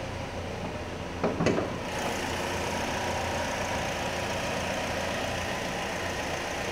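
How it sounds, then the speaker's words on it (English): A 2012 Chevrolet Malibu engine idles steadily at a moderate level, with a short mechanical clatter near the start and then a smooth, even running hum throughout. "Listen to that Malibu run."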